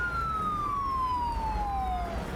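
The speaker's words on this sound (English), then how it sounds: "And it's a police car." Police car siren in Euro Truck Simulator 2, a single steady wail sliding slowly downward in pitch as it passes, loud and close over a low rumble of motorway traffic, with no talking.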